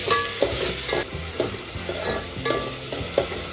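Onions frying in a pan as they brown, a loud continuous close sizzle with regular spatula scrapes and clinks stirring them.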